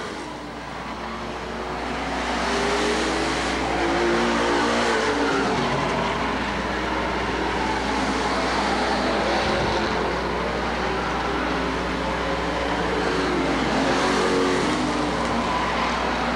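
Street stock race cars roar around an oval speedway in a night main event, a loud continuous engine drone that swells and fades as the pack passes, with no talk over it.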